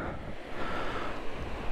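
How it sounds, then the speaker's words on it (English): River water rushing steadily beside a hard-packed gravel trail, a continuous broadband wash with some wind noise on the microphone, fairly close and without voices. "A little river action."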